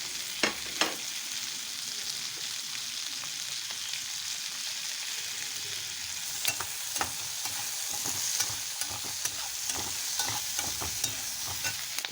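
Onions and green chilies sizzle and fry in a pan for chilli paneer. A soft continuous crackle runs throughout, broken by scattered clicks and scrapes of stirring.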